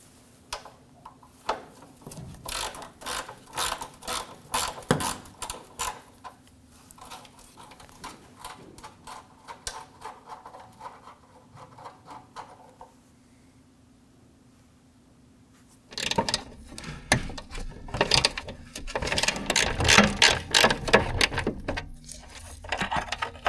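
A ratchet removes 8mm bolts from the fog light bracket of a 2009-2014 Ford F-150, with rapid clicking bursts, a quiet pause, then louder fast ratcheting near the end.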